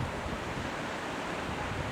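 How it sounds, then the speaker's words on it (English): Surf waves break into ankle-deep water along a beach, a continuous roaring wash of whitewater with wind buffeting the microphone, close and loud with no pauses. "Overhead waves that break into ankle-deep water."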